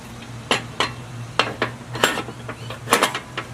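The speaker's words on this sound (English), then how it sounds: "I like to move my chopping block down to the bottom." Several hard wooden knocks and clatters from a wooden chopping block being moved land at irregular intervals, close by, with short gaps of quiet between them and no talking.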